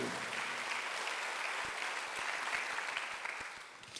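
A church congregation applauds during a Sunday service, with a dense, even wash of clapping that holds steady for several seconds before tapering slightly.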